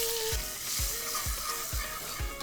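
A stick of butter melts in a saucepan while making a bread pudding sauce, sizzling steadily with a loud crackling hiss and a few soft low knocks at regular intervals.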